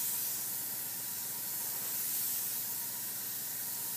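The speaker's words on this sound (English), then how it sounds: "just keep the airbrush moving, guys" Airbrush spraying AutoAir paint, a steady, even hiss of air and paint held close throughout without pause.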